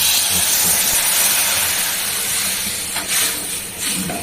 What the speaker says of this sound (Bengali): একটু গরম জল দিয়ে দিচ্ছি